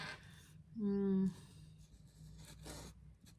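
Pen strokes drawing lines across paper during a Neurographica session, with a few soft scratchy passes and a brief tonal hum near the start.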